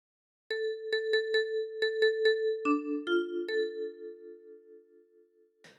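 Ten-key kalimba playing a phrase of What Shall We Do With the Drunken Sailor, bright plucked metal tines ringing out in a quick repeated-note rhythm, then a few lower sustained notes that decay slowly, close and solo.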